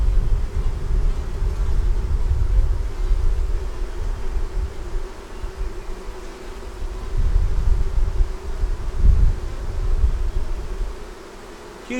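Honey bees buzzing around an open hive while frames are handled, a dense continuous hum of many bees close by, swelling and fading slightly with a low rumble of wind underneath.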